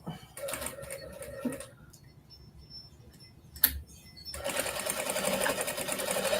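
A sewing machine runs while winding a bobbin, a steady whirring hum that stops for a couple of seconds, then starts again at a busier, louder pitch. A sharp click falls in the quiet gap.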